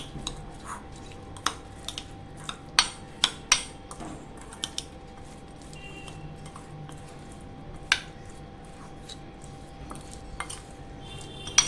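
Black pepper powder and chaat masala mixed into sweet corn with a spoon, soft squishy stirring broken by light clinks of metal on the bowl, close and quiet.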